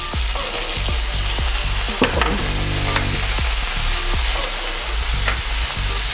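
Potatoes, green chilli, curry leaves and turmeric sauté for aval upma in a pan, giving a steady loud sizzle with repeated scraping stirs of the spatula across the metal, with no talk.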